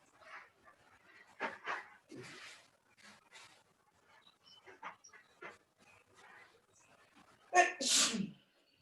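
A dog snorts and sneezes in a series of short bursts amid quiet snuffling, ending with a loud, close sneeze.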